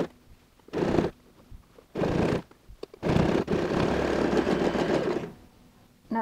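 A sewing machine stitches a lined fabric bag with cross handles, running in several close, steady whirring bursts, short ones first and then a longer run, with pauses between them.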